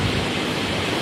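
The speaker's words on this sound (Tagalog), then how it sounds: "ang napapakinggan ko lang is talagang yung tunog ng dagat" Sea waves roll onto a beach in a dense, continuous wash of surf with no breaks and no voices, heard briefly at a moderate level.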